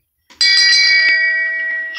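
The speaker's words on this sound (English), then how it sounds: "You will get the bell for that." A bright struck bell rings once as a sound effect, loud and alone, with a sharp onset and a long sustained ring that fades slowly.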